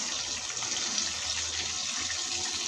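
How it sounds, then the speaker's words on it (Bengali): Chopped onions hit hot oil in a pan, raising a steady, bright sizzling hiss that holds evenly throughout at close range, with no talking. "তেল গরম হয়ে গিয়েছে। কেটে রাখা পেঁয়াজ দিয়ে দেবো"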